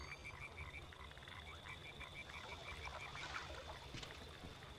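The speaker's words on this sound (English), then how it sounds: "That's a lot of frogs." Many frogs croak in a dense, rhythmic chorus within the stealth video game Splinter Cell: Pandora Tomorrow, steady and moderately loud with no talk over it.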